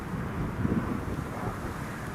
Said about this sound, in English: There it is, there it is. Emirates A380.